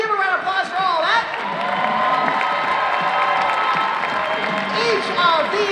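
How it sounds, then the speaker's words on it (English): Audience at a 2019 Planet Comicon cosplay contest awards breaks into sustained clapping, cheering and whoops from a large crowd, loud and continuous with scattered shouting voices throughout. "Give a round of applause for all that."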